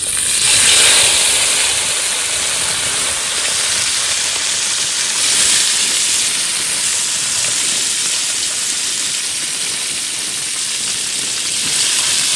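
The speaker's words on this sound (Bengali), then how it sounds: "একদম খড়া মাছগুলো ভেজে নি" A dense, steady hiss of fish frying in hot mustard oil fills the whole stretch, loud and close, with no voices.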